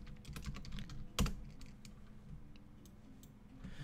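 Quiet typing on a computer keyboard gives soft, irregular key clicks close up, with one sharper tap near the start and no voice.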